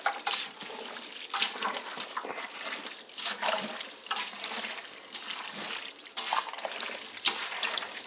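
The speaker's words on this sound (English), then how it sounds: "Gonna have to put some water in there" Tap water pours steadily into a cooking pot holding stewed tomatoes and marinara for a low-carb pork and vegetable stew, a continuous close splashing rush lasting several seconds with no talk.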